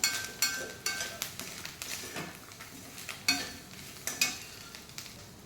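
A spoon stirs and scrapes through thick onion and curry leaf masala sautéing in a pan, with irregular clanks and scrapes over a steady frying hiss, close by.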